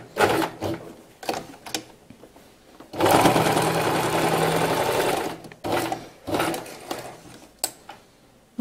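A sewing machine stitches the side panel and lining of a fabric bag, running in short whirring bursts, then one long steady run of about two seconds, followed by more brief stop-start bursts.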